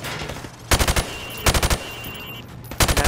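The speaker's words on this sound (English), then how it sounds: "shoot at the targets while firing from the hip" Rifle fire from the hip in Call of Duty Modern Warfare Remastered: three loud, close bursts of several rapid shots each, separated by short pauses.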